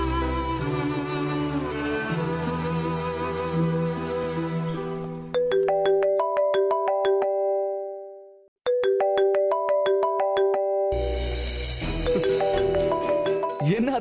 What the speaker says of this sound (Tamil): நினைச்ச உடனே போன் பண்றாங்க